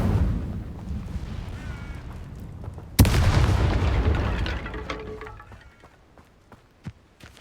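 An Incendio fire spell erupts in Hogwarts Legacy with a sudden loud whooshing burst that roars for a couple of seconds, then fades to scattered faint crackles and thumps.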